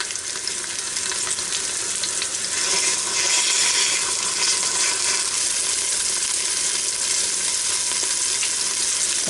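A ribeye steak sears in an Instant Pot Duo Crisp, giving a steady, loud, dense sizzle and crackle of fat that holds evenly throughout with no voices.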